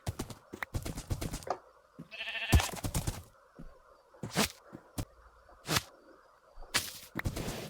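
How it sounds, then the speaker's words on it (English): Sheep in the Minecraft video game bleat in a string of short, sharp calls spaced irregularly across the stretch, loud against near silence, with a quick swishing effect partway through and no talking. "We are bringing sheep back to our barn"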